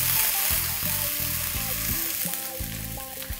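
Ginger and garlic paste sizzling and frying in a pan for squid masala, a steady loud crackle with a few stirring scrapes throughout, no voices.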